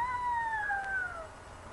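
A small kitten gives one drawn-out, high falling meow, clear and close over faint background hum in New York.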